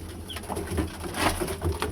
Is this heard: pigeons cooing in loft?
yes